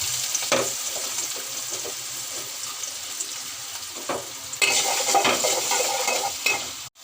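Ginger-garlic paste and chopped onion sizzle steadily in a pan for egg and potato curry, a continuous frying hiss with a few stirring scrapes, briefly louder midway before cutting off at the end; no talking.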